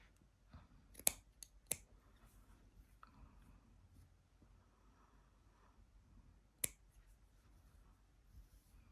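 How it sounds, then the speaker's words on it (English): Quiet snips of dull scissors cutting yarn, a few sharp crisp cuts clustered early and one more later, over a soft low background. "I think I need to get new scissors because these aren't cutting as sharp as they used to."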